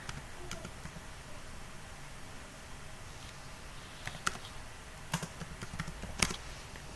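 Someone types a channel name on a computer keyboard: sparse, faint key clicks build into a few sharper, louder taps near the end over a quiet room hiss.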